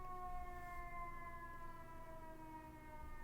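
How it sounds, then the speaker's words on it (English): A distant noonday whistle siren wails in a long, steady, sustained tone, faint and unbroken throughout with no voices. "that sounds like the noonday whistle"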